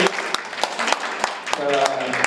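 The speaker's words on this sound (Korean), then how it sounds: "다시 한번 큰 박수 부탁드립니다." Audience applause at a book talk concert, a steady patter of clapping hands running for a couple of seconds with a voice speaking over it.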